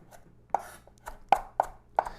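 A knife chops herb leaves on a board for chimichurri. The cuts land as crisp, close taps in an uneven rhythm, five or six of them within a couple of seconds.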